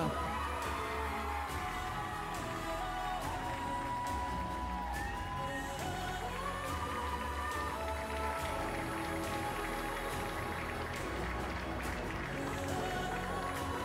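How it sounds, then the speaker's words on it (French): An audience applauds the French champion at a Grand Ouest dressage club prize-giving, a dense, steady clapping that carries evenly from start to finish. "vous pouvez l'applaudir bien fort"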